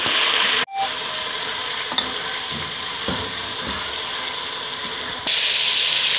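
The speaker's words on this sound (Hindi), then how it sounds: "अब इसको मैं 2-3 मिनट इसमें फ्राई करूँगी" Mutton pieces fry in a pan with browned onions, giving a steady close hiss and sizzle with occasional clinks and scrapes of stirring, the sizzle flaring louder near the end.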